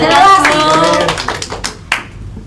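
In a classroom, a voice speaks, and then a few short, sharp claps follow, scattered and fairly close, as the talk dies away.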